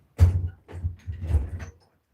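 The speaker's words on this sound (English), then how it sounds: "Let me close the door real quick" Door pushed shut indoors while rain falls outside, a few quick low thumps and knocks bunched within about a second and a half, close and fairly loud.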